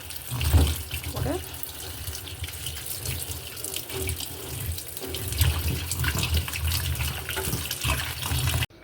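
Tap water runs steadily into a sink while vegetables are rinsed, with splashing and gushing throughout and a few louder bumps of handling. A voice speaks faintly under the water.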